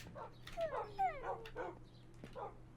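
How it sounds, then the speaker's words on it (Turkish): Minecraft dogs give off several faint, short yips and whimpering whines in quick succession, over a low steady background hum in the game. "Aha köpekler burada."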